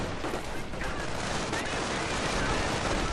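Dense, continuous gunfire from a video-game battle in which troops fire on engineers, a steady barrage of overlapping shots and blasts filling the whole stretch at moderate loudness with no talk over it.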